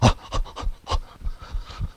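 Rapid, rhythmic panting breaths during a whole-body shaking exercise, close and fairly loud, about eight quick huffs in a row without speech.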